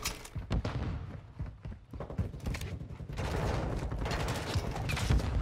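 Rapid bursts of gunfire crack and thump close by in a shooter video game, dense volleys overlapping with a faint voice underneath.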